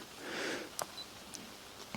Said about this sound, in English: So I'm going to take this shot here with a 70mm lens